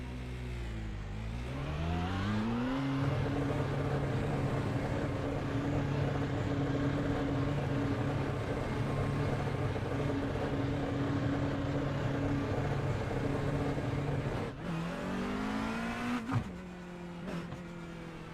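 A McLaren race car engine in iRacing, revving up from low through the gears then holding a steady loud high-pitched drone for a long stretch, with a brief lift and rev change near the end.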